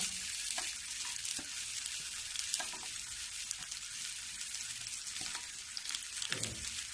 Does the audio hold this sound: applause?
no